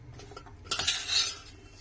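A spoon scraping and clinking in a metal bowl while mixing raw mango pickle pieces with garlic, a few light taps followed by a brighter swirl of scraping, close and short, no voices.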